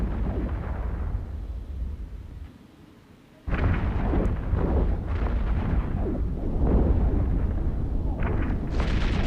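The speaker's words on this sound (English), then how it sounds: "once the shield on the Gila is down, the whole ship explodes" A spaceship explosion in the space video game EVE Echoes, a deep booming roar that drops away briefly and then bursts back loudly, rumbling on with crackling debris bursts.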